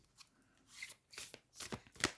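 Tarot cards being drawn from a deck: several quiet, crisp swishes and flicks of card stock sliding against each other, spaced about half a second apart in a hushed room.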